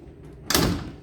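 A 1991 Range Rover's door opens, giving one sudden loud unlatching clunk and swing that fades over the next half second.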